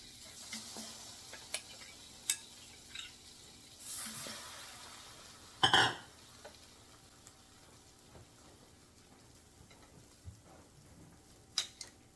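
French toast sizzles on a flat top griddle, a steady soft frying hiss punctuated by occasional clicks, taps and a louder scrape, with no talking.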